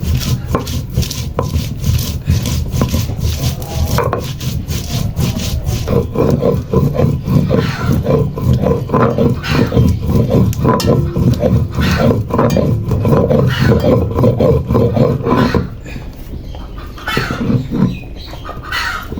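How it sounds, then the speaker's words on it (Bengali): Spices are ground by hand on a stone slab (pata) with a stone roller, giving loud, close, rhythmic rubbing and rasping strokes that repeat steadily before easing near the end. "এখন আমি পাটায় মশলাগুলো বেটে নিচ্ছি"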